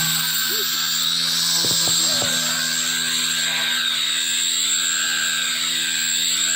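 Miniature RC helicopter buzzing steadily throughout, a sustained high-pitched motor whine with a few brief low thumps near the start, close and fairly loud with no talk.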